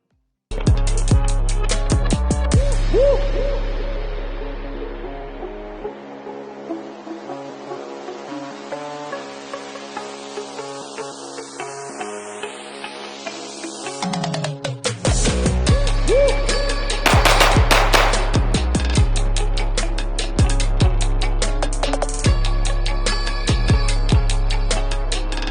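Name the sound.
gunfire from a Sig Sauer P226 Legion SAO pistol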